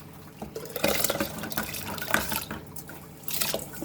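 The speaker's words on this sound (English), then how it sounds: "And you can add boiling water or you can add normal water." Water pours steadily into a pot of salted lentils for dal, a close, continuous splashing and gurgling stream with no talk.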